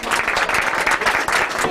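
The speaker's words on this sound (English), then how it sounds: "Nice round of applause." A studio audience at a trivia game show claps in a brisk, dense round of applause, loud and close, with individual hand claps audible in the steady burst and no talking over it.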